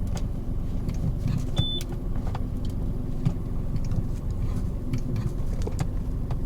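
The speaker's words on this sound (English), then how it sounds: "I'm not going to move this car that much because there's no point. Let me reverse and see." A used black Peugeot 607 V6 automatic with a suspension or ABS fault idles as it prepares to reverse, giving a steady low engine hum close by with faint ticks and clicks over it.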